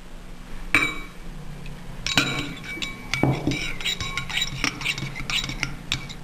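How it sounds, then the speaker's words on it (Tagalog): Oyster sauce and soy sauce being mixed in a bowl: close clinks and taps of a utensil against the bowl, a few sharper knocks followed by a steady run of light scraping and clinking, with a voice speaking quietly. "Pagaluin lang natin ng oyster sauce at soy sauce."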